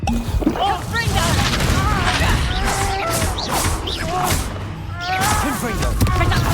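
Confringo blasting-spell explosions in the video game Hogwarts Legacy, loud booms and crashing impacts in the middle of chaotic combat, mixed with shouting voices throughout.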